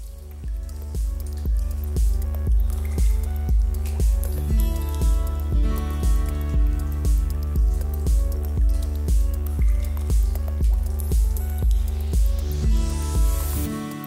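Water drips steadily in a limestone cave onto stalagmites, a regular rhythm of close, resonant plinks about once every half second, echoing alone with no voices throughout.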